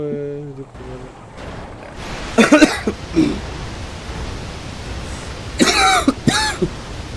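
A couple of harsh bursts of coughing close by from a person with a fever, separated by a pause, over a steady hiss of background noise.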